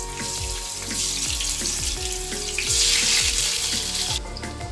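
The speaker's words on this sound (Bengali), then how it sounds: "তেলটা গরম হয়ে গেছে, এবার দিয়ে দিচ্ছি কেটে রাখা কুমড়োগুলো" Cut pumpkin pieces dropped into hot oil give a steady crackling sizzle with repeated low thuds, fairly close and loud, with no voices.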